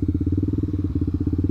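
A Honda CBR150R motorcycle with a carbon three-sound Tridente exhaust runs close by with a fast, throbbing exhaust pulse, a steady rumbling idle with a slight crackle.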